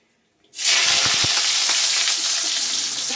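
Diced potatoes with dried red chillies and black cumin tipped into hot oil, a sudden loud sizzle bursting in after a brief near-silence and holding steady and close, with a few clinks of a spoon.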